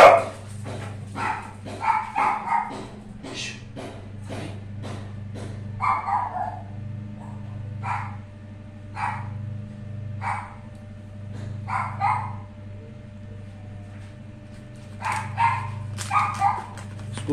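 A dog barks repeatedly in short, irregular bursts over a low steady hum, fairly close and loud.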